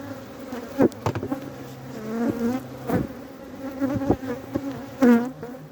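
Honey bees buzz steadily at an opened hive in early-season February beekeeping, a dense close drone with several louder swells as bees fly near, and a voice briefly laughs or murmurs.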